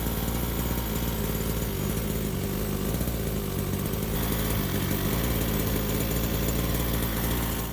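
The small gas engine of a Redcat Rampage XR Rally 1/5-scale RC car runs steadily with a buzzy, rattling drone through a quiet stock tuned muffler, holding a constant loud level throughout.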